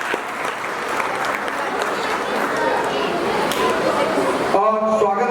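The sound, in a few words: applause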